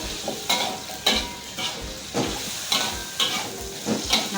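Chilies, green chilies and tomato stir-fried in a hot pan with fried shallots for a spicy shrimp and tofu dish, a steady close sizzle broken by rhythmic scraping stirs about every half second.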